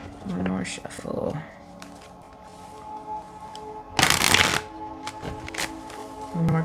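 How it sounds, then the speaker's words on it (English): Tarot cards shuffled by hand, one sharp riffling burst in the middle with softer card taps around it, close by, over a woman's speech. "One more good shuffle."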